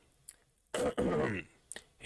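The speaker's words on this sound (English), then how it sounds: "hear my cough" A single short cough, sharp and close, followed by a rough throat-clearing burst and a faint breathy catch, alone in a quiet room with no talk.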